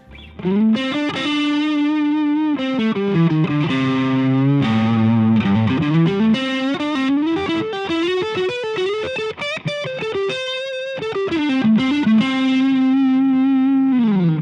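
Distorted Squier Stratocaster electric guitar plays a continuous melodic line with sustained, bending notes and chorus-like shimmer, loud and steady throughout with no voices.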